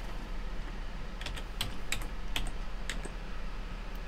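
Soft clicks of typing on a computer keyboard, about a dozen quick keystrokes in short bursts, quiet and close over a faint low hum, with no talking.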